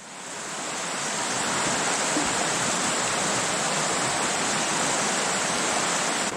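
The Savage River flows into a big deep pool between footbridges, making a loud, steady rushing roar that fills the whole stretch without a break.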